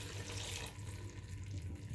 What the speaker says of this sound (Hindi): पानी डालती हूँ इतना सा